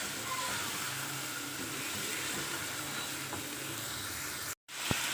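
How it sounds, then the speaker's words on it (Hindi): Chicken frying with onions in a karahi, giving a steady, close, loud sizzle with faint stirring scrapes, broken by a brief silence near the end, with no talking. "चिकन को अच्छे से करेंगे इसके साथ मिक्स, फ्राई करेंगे इसको अच्छे से।"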